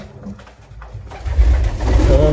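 Several pigeons of a hard-to-breed fancy variety coo in a loft with young chicks, giving loud, close, throaty coos that build and overlap, along with some fluttering and rustling.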